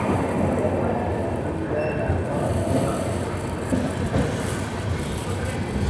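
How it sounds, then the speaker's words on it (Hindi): The Shirdi Mysuru Express rolls on after pulling out of Munirabad, heard from inside as a loud, continuous low rumble of wheels and carriage with faint rattling and a light squeal, steady throughout. "2:24 पर हमारी ट्रेन निकली है मुन्नीराबाद से"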